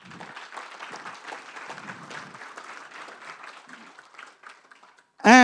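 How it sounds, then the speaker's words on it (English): An audience at a convention breaks into applause, scattered clapping that thins out over a few seconds before a sudden loud burst at the very end. "Give me a round of applause."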